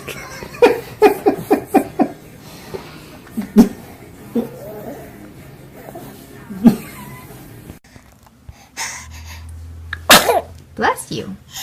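A baby's sneeze stands out clearly among adult talk and soft vocal sounds, with several short bursts early on and a sharp burst near the end.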